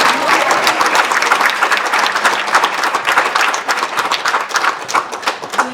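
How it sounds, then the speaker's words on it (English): An audience at an International Women's Day 2015 gathering gives a round of applause for young girl dancers, brisk, dense clapping that stays strong, then thins slightly toward the end. "I think we need to give them one more round of applause"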